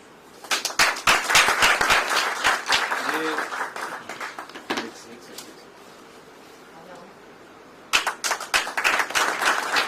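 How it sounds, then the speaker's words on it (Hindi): Loud crowd clapping at a foundation felicitation ceremony that breaks off into a quieter stretch with a speaking voice, then bursts back into vigorous applause. "उनका भी जोरदार तालियों से स्वागत करते हैं।"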